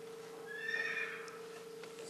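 A horse neighing sound effect plays during a stage rehearsal, one drawn-out whinny rising and fading over a faint steady hum, fairly quiet and distant.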